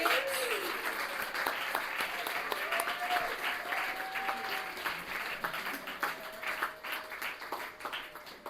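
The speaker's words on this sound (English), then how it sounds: "Let's have another round of applause for all the readers tonight." Audience applause fills an evening literary reading, dense steady clapping from a room of listeners sustained throughout, with faint voices mixed in.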